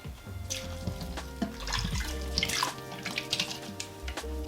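Water poured onto a plant and moss inside a bird-eating tarantula's enclosure, a running, splashing trickle with uneven bursts and small drips, fairly close and clear.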